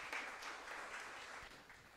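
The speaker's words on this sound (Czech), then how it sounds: "Děkuji za aplaus." Festival audience applauding at a creative placemaking festival event, with steady dense clapping held at an even level for a short stretch.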